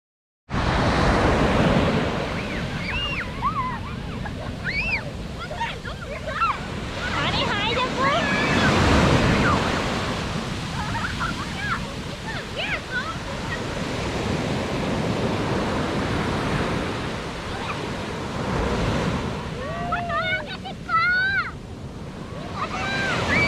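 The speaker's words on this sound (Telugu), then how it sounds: "అలలు కొంచెం పెద్దవి వస్తున్నాయి అన్నమాట" Evening sea waves breaking on Yeongdeok Beach in South Korea, a loud continuous roar of surf with rising and falling swells, while people talk and call out over it.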